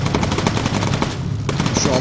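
Rapid machine gun fire from a bomber crew's gunners in the Bomber Crew video game, a steady stream of loud, rhythmic shots with a voice briefly audible underneath.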